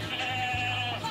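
A goat bleats in a sustained, wavering cry, close and fairly loud, lasting about a second against steady background noise at a nighttime event.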